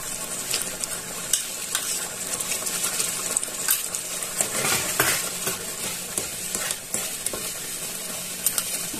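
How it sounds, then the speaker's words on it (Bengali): Beaten sour yogurt being stirred into a sizzling, well-fried masala for chicken-stuffed potato balls, with steady loud frying hiss, scraping spatula strokes and occasional utensil clinks, near and alone. "মশলাটা কষে গেছে, আমি এর মধ্যে এবার ফেটানো টক দই দিয়ে দেবো।"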